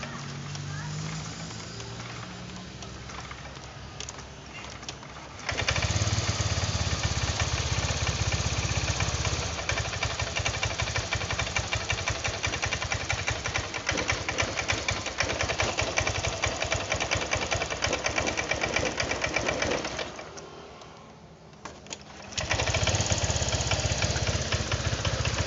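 A Honda Vario 125 scooter engine with a fault runs close by, idling roughly, then rising into a harsh, sustained rev. It sags and nearly dies for a moment before catching and roaring again.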